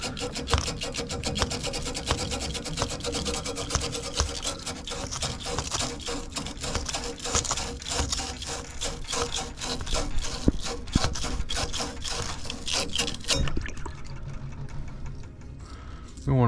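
Steady rhythmic rasping of an abrasive cleaning tool scrubbing a copper pipe end during a house sillcock replacement, loud and continuous for most of the clip before stopping near the end.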